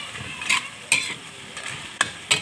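Food sizzles steadily in a pan while a utensil scrapes through it in several quick, sharp strokes, close and clear with no talking.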